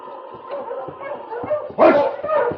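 A husky sled dog in a Yukon dog team yips, whimpers and breaks into a louder burst of barking partway through, fairly close and steady against a murky background.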